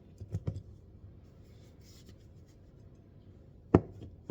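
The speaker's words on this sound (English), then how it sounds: "then we're going to cut these in half" A knife cuts food in half on a cutting board: two or three quick, crisp taps near the start, a quiet pause, then one sharp chop and a light follow-up tap.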